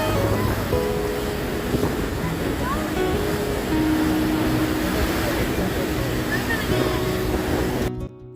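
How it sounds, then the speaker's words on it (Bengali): Niagara Falls thunders up close in a continuous heavy roar of falling water, with wind buffeting the microphone and voices faintly beneath it. "জল এতটাই জোরে পড়ছে"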